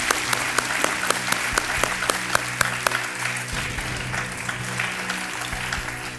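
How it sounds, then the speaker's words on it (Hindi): Studio audience applause on Kaun Banega Crorepati welcoming a contestant, Shivaji Kadam, steady clapping with sharp rhythmic claps standing out near the front for the first few seconds, then an even wash of hands. "आइए, तालियों के साथ आपका स्वागत करते हैं"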